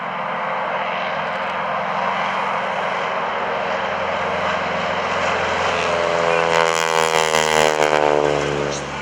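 A Stearman biplane's propeller engine drones loudly and steadily at an airshow, swelling as it passes close overhead with a rising whine near the end.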